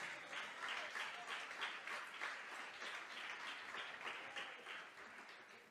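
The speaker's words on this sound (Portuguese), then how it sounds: "Você pode aplaudir o Senhor?" A church congregation applauds steadily, a dense wash of many hands clapping at once, sustained and slowly fading, heard from within a large room.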